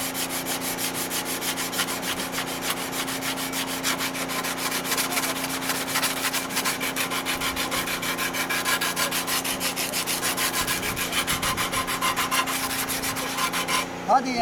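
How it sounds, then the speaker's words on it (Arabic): Coarse sandpaper rubs steadily over a wooden bokken practice sword, a close, continuous rasping scrape that holds without pause for about fourteen seconds, with no talking. "هذه صنفرة خشب خشنة اوكي؟"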